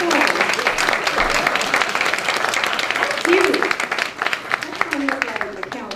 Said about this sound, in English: give me a applause